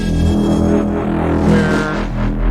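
A synthesizer patch built in Phase Plant, pushed through heavy creative processing effects, plays as a dense, loud, sustained tone with shifting layered harmonics and no pauses.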